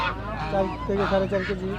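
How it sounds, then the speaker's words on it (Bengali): Loud honking calls from several large domestic ducks of four to four and a half kilograms at a village market, overlapping and close, sounding more like geese than ducks, with some background chatter. "অনেক বড় বড় হাঁস আছে ভাই"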